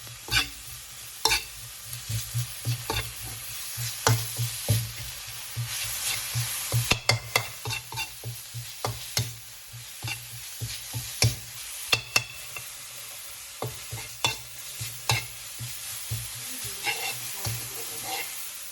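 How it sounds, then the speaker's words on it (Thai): Food sizzles in a hot wok as chicken is stir-fried with garlic and dried chili in oil, while a utensil scrapes and clanks against the metal in irregular strokes, a continuous close-up stir-fry. "เราผัดให้หอมแล้วเราใส่ไก่ลงไป"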